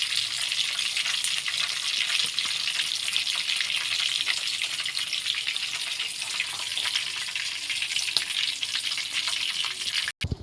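Chicken pieces deep-fry in hot oil in a pan, a dense, continuous close sizzle with crackling pops throughout and a brief clatter at the very end.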